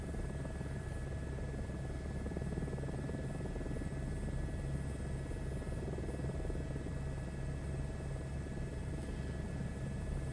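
An H125 helicopter in Microsoft Flight Simulator 2 drones steadily during takeoff in Norway, its turbine whine and rotor hum loud and constant, with no talking.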